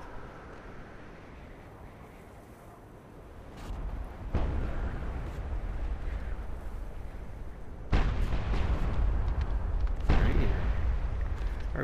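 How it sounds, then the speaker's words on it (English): Burning place keeps exploding in Mad Max, a continuous roaring rumble of blasts and fire with heavy booming bursts that grow louder partway through and stay loud and dense throughout. "That place still blowing up"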